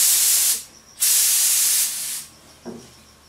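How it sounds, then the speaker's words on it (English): A spray gun sprays wood stain in two long, loud hissing bursts, followed by a brief soft knock. "I'm going to try and hold this up and spray just the bottom portion there so you see it"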